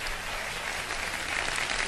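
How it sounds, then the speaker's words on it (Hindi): A television studio audience on a Ramadan sehri quiz show claps in a steady, bright wash of applause, moderately loud and unbroken for the brief moment. "तालियां बजा दे"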